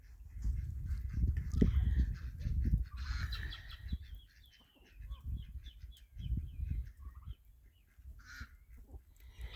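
Farm turkeys give a run of honking, gobbling calls, several birds overlapping at close range, loud and irregular, with no talk.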